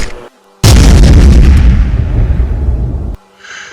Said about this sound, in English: The explosion was almost deafening